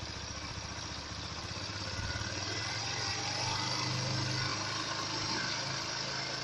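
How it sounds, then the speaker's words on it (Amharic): A BMP 150cc motorcycle engine idles with a steady, close mechanical rumble and rattle, swelling slightly louder partway through and holding continuously throughout. "ሞተሩ እየሰራ ነው።"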